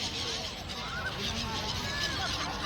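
A flock of birds at Somnath honks and calls repeatedly over a steady rushing background, their overlapping cries fairly distant.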